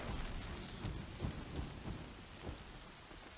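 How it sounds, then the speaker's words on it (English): Steady rain pours down in the video game Horizon Zero Dawn, with low rumbles of thunder rolling through the downpour; a dense, continuous wash with no voices. "I wish it would stop raining."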